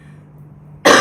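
A single short, loud cough bursts out abruptly at the very end after near silence.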